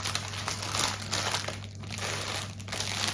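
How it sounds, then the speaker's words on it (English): Crinkly plastic packaging of a knitting project bag rustles and crumples continuously for about three seconds, close and fairly loud, with no talking. "Excuse the rustling."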